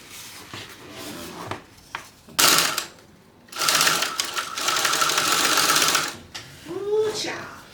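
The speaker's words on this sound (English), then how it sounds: "sew at 1/4 of an inch seam allowance" Bursts of a domestic sewing machine stitching darts on a fabric bag at a quarter-inch seam allowance, several short runs of rapid needle clatter broken by pauses and soft handling noises.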